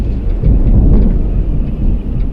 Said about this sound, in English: in the distance, you hear, before we see, this big, deep, low thunder